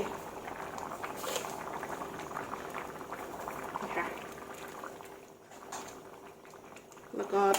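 A pot of spicy curry with chicken offal and bamboo shoots simmers, a low steady bubbling with faint speech over it and a brief clatter near the end.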